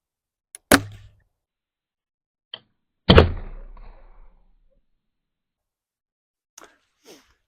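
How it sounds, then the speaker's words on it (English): An arrow is loosed from a traditional bow, a sharp snap followed by a loud thunk of impact that rings briefly, with a few faint taps and knocks after in a quiet setting. "and then I'm going to fling the first arrow."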